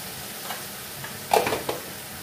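Jackfruit seed dal with turmeric and salt being stirred and fried in a pan, a low sizzle under a few close scraping and clinking strokes of a spoon near the middle, no voices.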